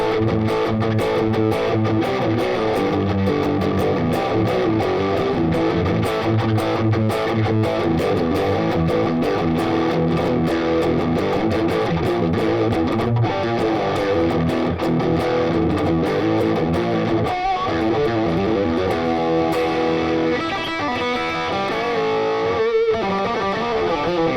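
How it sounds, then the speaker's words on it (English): An electric guitar plays through a Fender Champion 50XL amplifier on its British-style distorted setting, with thick, continuous riffing and chords that stay loud and dense throughout. "Then you can go on to British plus distortion."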